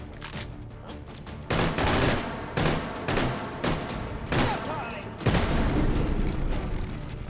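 Repeated gunshots in the VR shooter H3VR, a series of loud, evenly spaced blasts over a busy, noisy background, ending in a denser burst of fire.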